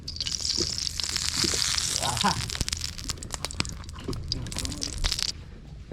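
Clam meat roasting and frying in a pan gives a steady close sizzle with scraping stirs and crunchy clatter, while voices talk over it throughout.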